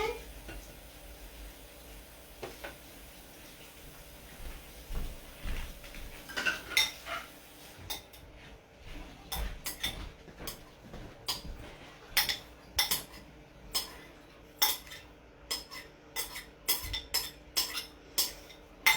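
A utensil scrapes corn out of a container into a dish for shepherd's pie, making a quick series of sharp clinks and scrapes that grow busier toward the end, close by, with occasional faint voices.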